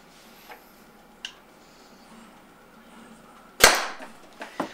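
A few faint pops, then one sharp, loud shot followed by several quieter snaps from a high-power-tuned Tippmann TCR paintball marker, spaced irregularly with no talking.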